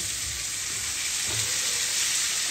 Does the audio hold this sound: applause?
no